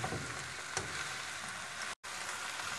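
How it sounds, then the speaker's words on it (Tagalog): Instant noodles are stirred and mixed in a hot pan for pansit guisado, with a continuous frying sizzle and a few soft scraping stir strokes. One abrupt brief dropout interrupts it near the end. "Ilagay na natin ang noodles. I-mix na natin."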